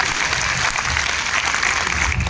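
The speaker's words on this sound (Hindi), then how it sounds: "मैं आप सभी के लिए चाहूंगा कि एक बार जोर से तालियां हो जाए, बहुत जोर से" Loud, sustained applause from a seminar audience fills the room, a thick continuous wash of many people clapping hard without pause.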